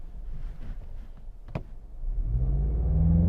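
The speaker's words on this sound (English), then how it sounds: "let's turn off traction control, turn off the start stop, and go for a launch" A 2023 Mazda CX-50 GT Turbo in sport mode launches from a standstill with traction control off; after a brief sharp click, a low engine rumble swells into a loud, rising rev that builds steadily to the end.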